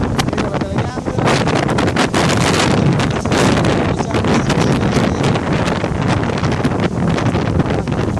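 Strong, steady wind buffets the microphone with a loud, continuous roar and gusty rumble, outdoors on the water at Tenerife.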